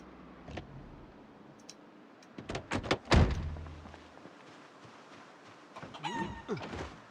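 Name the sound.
chicken clucking in Project Zomboid video game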